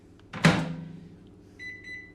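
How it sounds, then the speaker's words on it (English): A microwave oven heating milk: a clunk as the door shuts, then a low steady hum of the running oven, with brief electronic beeps toward the end. "I'm going to pop the milk into the microwave"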